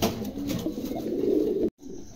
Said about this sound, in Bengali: চমৎকার এক জোড়া কবুতর, ভালো লাগলে সংগ্রহ করতে পারেন।